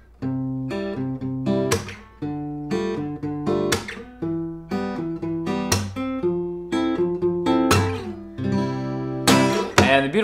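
Acoustic guitar in a second fingerstyle pattern over open chords, with rhythmic plucked strums and bass accents, with brief pauses between phrases, close and clear with no talk.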